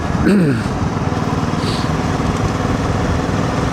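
A motorcycle engine keeps running on a countryside road into the village of Finchingfield, a loud, steady close-up drone and rumble with brief wind buffeting near the start.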